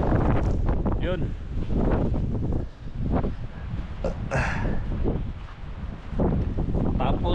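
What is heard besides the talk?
strong wind in Iceland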